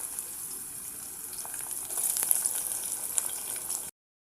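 Tomatoes tipped into a pan of lightly browned onions fry with a steady hiss and sizzle, loud and close, rising slightly midway before cutting off abruptly, with no talking.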